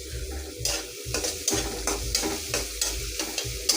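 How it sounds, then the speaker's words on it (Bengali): Onions fry and get stirred in a pan, a crisp sizzle broken by regular scraping strokes about every half second, close and steady with no voices. "আমি পেঁয়াজ দিলাম পরিমাণ মতন। পেঁয়াজটা ভেজে নেব।"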